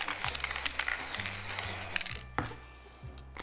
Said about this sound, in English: Again, spray adhesive over the top.